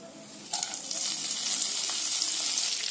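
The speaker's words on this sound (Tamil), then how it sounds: "இதையெல்லாம் நல்லா இந்த எண்ணெயில வதக்கி விடுங்க." Mustard seeds, cumin, urad dal and a red chilli fry in hot coconut oil. Soft crackling swells into a steady, close, loud sizzle about half a second in, and no one speaks.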